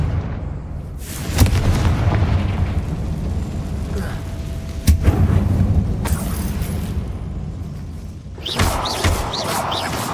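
A Confringo explosion spell goes off in Hogwarts Legacy inside a dark mine like a tomb, giving several deep booming blasts over a rumbling background, with a sharp burst near the middle and another eruption toward the end.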